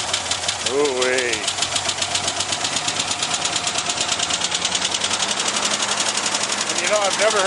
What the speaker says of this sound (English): I've never heard a bottom end sound like that. That sounds so much like a lifter.